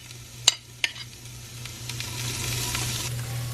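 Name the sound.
onions sizzling as they fry in a pan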